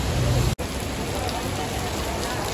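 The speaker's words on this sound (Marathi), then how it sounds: "आता फुल तुफान पाऊस यायला लागला" Heavy rain pours down in a loud, dense, unbroken roar, close by, with only a momentary break near the start.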